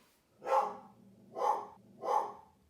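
A dog barks outside three times at an even pace, each bark muffled and moderately distant, with no talk.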